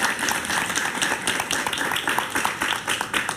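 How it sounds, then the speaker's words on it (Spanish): A studio audience applauds a guest on a talk show, a continuous patter of many hands clapping at moderate level with no break, loose and uneven rather than rhythmic. "Un aplauso para él, por favor."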